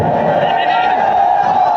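A large crowd at an outdoor Islamic gathering shouts the takbir in unison, a loud, sustained mass of voices that holds steady throughout.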